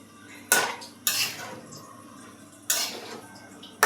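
A lid goes onto a curry pot, producing a few sharp metallic clanks and clatters spaced over a few seconds, close by with quiet pauses between.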